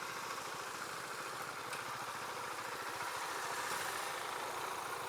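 Husqvarna Vitpilen 701 motorcycle engine ticking over at low RPM during slow-speed maneuvers, a faint, steady, slightly clunky idle rumble with no speech.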